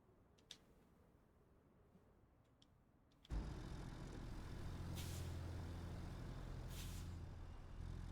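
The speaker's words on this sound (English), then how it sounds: "These are the trucks that I worry about." Heavy trucks rumble through a busy cargo port in a video game, a loud low engine drone starting abruptly after a quiet stretch of faint ticks, with hissing air-brake bursts breaking through twice.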